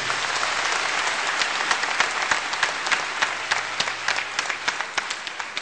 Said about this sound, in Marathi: डॉक्टर राजेंद्र भारुळ यांच्यासाठी जोमाने जोरदार टाळ्या वाजवूयात